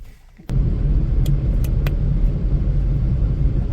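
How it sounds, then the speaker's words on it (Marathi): A car's engine starts a loud, steady low rumble partway through and keeps droning evenly while driving, close up, with no talking. "तर ही आहे कार."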